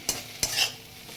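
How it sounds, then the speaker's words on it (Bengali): Eggplant being stirred and fried in a pan over low flame for a fish curry, two sharp scrapes of a spatula over a faint sizzle, with no talking. "বেগুনটা দিয়ে এটাকে ভালো করে চলো ঢেকে কষিয়ে নেবো। বেগুনটাও বেশ ভাজা হয়ে যাবে"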